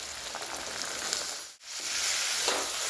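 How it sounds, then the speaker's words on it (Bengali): Potato and spices fry in a pan with a steady, dense sizzle that stays loud and continuous, dipping briefly to near silence midway before resuming. "খুব ভালো করে আমি এটাকে ভেজে নিচ্ছি যেহেতু আলুটা সিদ্ধ হতে একটু টাইম লাগবে"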